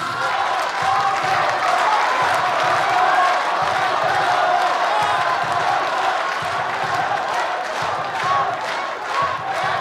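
Studio audience at a Turkish Popstar singing competition cheering and chanting for contestants Adnan and Mehtap, a dense, continuous crowd roar with rhythmic pulses throughout, loud and close.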